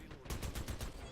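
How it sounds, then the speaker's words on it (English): A short, quiet burst of rapid automatic gunfire from the first-person shooter Dirty Bomb, with evenly spaced shots over about a second. "I do not like you guys shooting at me, to be honest."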